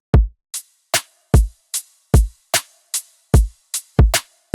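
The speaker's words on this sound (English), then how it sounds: "The drums sound like this." An electronic drum loop at 150 BPM built from one kick, one snare and hi-hat, a punchy, loud, steady pattern of booming kicks and crisp snare hits with short hat ticks, playing alone with no voices.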